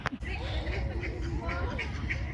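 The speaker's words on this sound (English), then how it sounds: "Look at all these ducks and geese and swans and..." Ducks quacking on a lake with geese and swans nearby, a string of short nasal calls repeating over a steady low rumble of wind and outdoor background noise.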